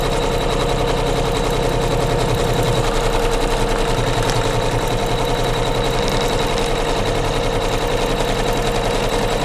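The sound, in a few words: sewing machine stitching fabric onto batting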